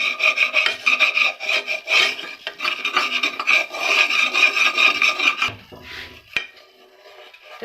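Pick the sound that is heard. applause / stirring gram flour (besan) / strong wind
stirring gram flour (besan)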